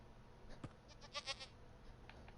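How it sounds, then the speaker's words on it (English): Goats bleat in a Minecraft game world, several short nasal calls clustered in the middle of the stretch, moderately clear over a faint steady background with no talking. "Goats."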